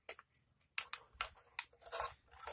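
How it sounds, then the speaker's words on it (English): Scissors cut through thin aluminum in several sharp, crunchy snips spaced irregularly, close and crisp, with quiet pauses between cuts. "you're going to cut straight across with scissors that don't want to cut through aluminum"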